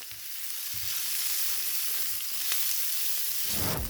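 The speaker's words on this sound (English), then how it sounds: "let me finish sauteing these up" Vegetables sauté in a Cook's Essentials nonstick cast iron skillet with a steady, close sizzle and frying hiss throughout, plus a brief clatter of stirring near the end, no one talking.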